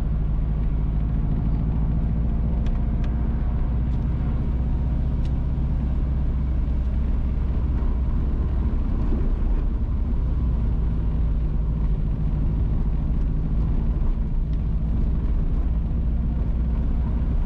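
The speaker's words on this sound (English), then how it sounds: "We are now driving on the Cool Spring Road." A car drives along Cool Spring Road in St Mary, Jamaica, giving a loud, continuous low engine and road rumble with tyre noise and occasional small rattles, steady for the whole stretch with no talk.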